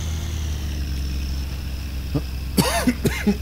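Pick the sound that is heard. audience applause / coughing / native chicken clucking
coughing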